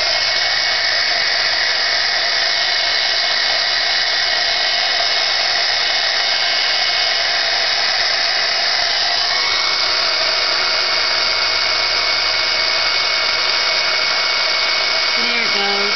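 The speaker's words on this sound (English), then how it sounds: "it's going to get a little noisy because I am going to heat emboss" A heat embossing tool blows hot air continuously, a steady loud whirring hiss held unbroken for the whole stretch, close up with no talk over it.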